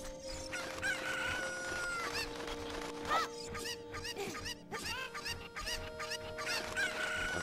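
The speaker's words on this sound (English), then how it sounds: "It's these dang chickens." Chickens in the video game The Legend of Zelda: Ocarina of Time cluck and crow repeatedly, overlapping game-audio squawks and rooster calls, with a steady backdrop of music.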